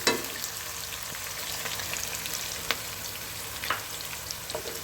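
Onions roast in hot oil in a pan for capsicum chicken fry, with spices already crackled in, giving a steady broadband sizzle throughout, punctuated by a few sharper pops and spatters.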